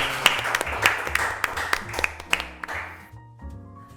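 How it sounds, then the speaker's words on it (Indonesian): A small group claps in scattered, uneven bursts close to the microphone, tapering off after about three seconds into a quiet room with a low hum. "Kasih tepuk tangan dulu."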